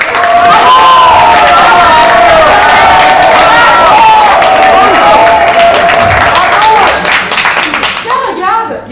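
Neighbours applaud and cheer from their windows at 8 pm for health workers during the pandemic lockdown, a loud, continuous wash of clapping and shouts with whistle-like whoops, voices calling out over it before it tapers off at the end.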